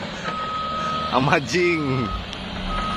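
A large remote control toy truck sounds steady electronic reversing beeps, moderately close, while a person talks excitedly over them.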